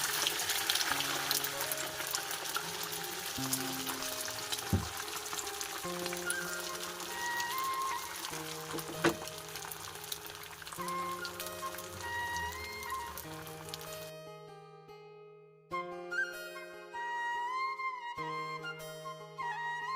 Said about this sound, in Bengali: এরপরে আমি ডিমটা দিয়ে দিলাম হাফ হাফ করে ভেজে নিচ্ছি এখানে